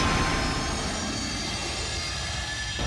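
Steady roar of an airplane engine at an aircraft fair, a broad continuous rumble sustained for a few seconds without any talk.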